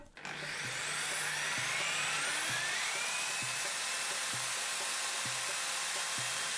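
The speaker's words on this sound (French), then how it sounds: "Pour le faire tourner, j'utilise une perceuse avec fil" A corded drill spins a car alternator under test, a steady high whine climbing in pitch as it speeds up, with faint regular ticks repeating under the drone.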